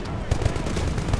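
Sniper gunfire in Titanfall cracks in a rapid run of sharp shots, loud and close, over a busy battle din.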